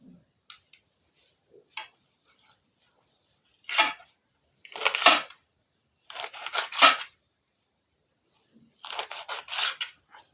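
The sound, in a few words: cutting plant stems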